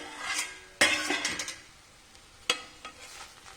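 A metal pot lid clanks as it is lifted off a pan of cooking moringa leaves for thoran, a sharp clatter followed by a second lighter clink and faint kitchen rustle, no talk.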